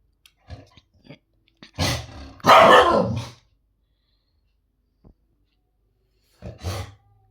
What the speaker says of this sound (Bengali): বাইরে বিড়াল মারপিট করছে